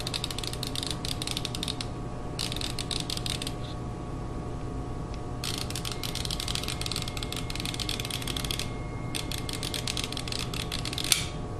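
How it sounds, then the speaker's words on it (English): A refrigerator defrost timer knob being turned by hand gives a run of dry ratcheting clicks and creaks in bursts over a steady appliance hum, close and moderately quiet, with no talking. "let's turn it to defrost until you hear a click"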